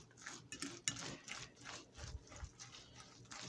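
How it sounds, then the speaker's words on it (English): Soft scraping and clinking of a fork stirring microwaved stuffing in a dish, a few quiet irregular strokes close by. "We're going to mix it with a fork again."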